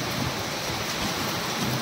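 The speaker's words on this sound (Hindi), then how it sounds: "इधर बारिश आ गया पूरा, लेकिन गजब का बारिश था" Heavy monsoon-style rain pouring down outdoors on the way to a forest, a dense, steady roar of downpour with no pauses, loud and close.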